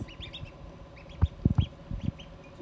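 Small duck chicks peep in quick, high chirps, with some soft low clucking or thumps near the middle; close and fairly quiet, with no talking.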